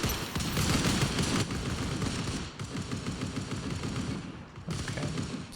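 Sustained bursts of assault rifle fire in the online shooter Anarchy Legends Online, rapid automatic shots rattling almost continuously with brief pauses, loud and dense.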